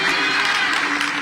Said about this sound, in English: Please, a bigger round of applause for our very own AIG.